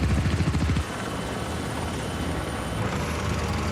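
A helicopter flies in TV series footage, its rotor thumping rhythmically at first and then settling into a steady, moderately loud whirring drone.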